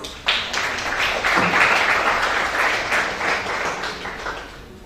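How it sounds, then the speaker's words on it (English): A crowd applauds warmly as a speaker is welcomed, a dense steady patter of clapping that swells early and slowly tapers off. "Please welcome Ria with a warm round of applause."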